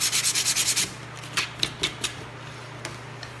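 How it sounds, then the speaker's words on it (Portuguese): Sandpaper rubbing over sealed MDF wood, a quick run of about eight rhythmic scratchy strokes followed by sparser, fainter rubs and taps, close and alone. "então a gente lixa aqui também"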